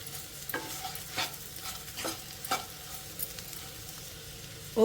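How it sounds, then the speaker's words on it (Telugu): Potatoes coated in chili powder fry in a pan, giving a soft steady sizzle with a few scraping stirs of a spoon at regular intervals, close and fairly quiet. "మనం కారం పొడి వేసిన తర్వాత 1 నిమిషం ఫ్రై చేసుకుంటే సరిపోతుందండి"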